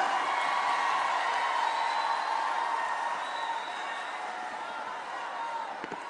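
Audience applause and cheering for Yadira Enríquez, director of the Presidency's Social Plan, at a Dominican public event: a steady, dense wash of crowd noise that holds for the whole stretch and eases only slightly toward the end.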